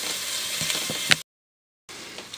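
Chili mac meat browns in a pan with a steady close sizzle and a few stirring scrapes, then cuts to brief silence before the sizzling resumes.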